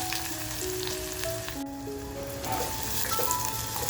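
Chopped onion dropped into hot oil with cumin, two cloves, a piece of cinnamon and bay leaf for tandoori mutton keema, a continuous close sizzle with faint ringing tones drifting over it, no voices.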